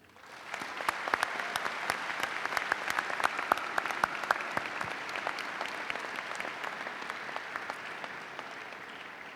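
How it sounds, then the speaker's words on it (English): Audience at a college of engineering commencement ceremony applauding candidates' supporters, a dense sustained wash of many hands clapping that swells in quickly and holds steady throughout. "take a moment now and thank them for their support with a round of your own applause"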